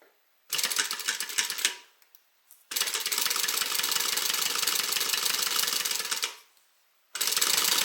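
A sewing machine stitches a zipper onto a bag pocket in three loud, rapid runs of needle chatter: a short burst, a long continuous stretch, then another burst starting, separated by pauses of silence.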